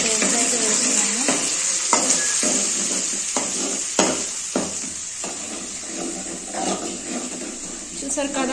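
Ginger garlic paste sizzles in a pan of curry while it is stirred, with a steady frying hiss broken by scraping spoon strokes and a few clinks, all close by.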